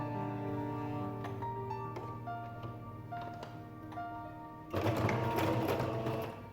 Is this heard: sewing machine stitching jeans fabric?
yes